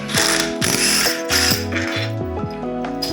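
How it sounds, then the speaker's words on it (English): A ratchet wrench backs bell housing bolts off an engine during a 1.5JZ swap into a Datsun 240Z, giving loud, close bursts of rapid metallic clicking in quick repeated strokes, with no talk. "I'm just gonna take these bolts out"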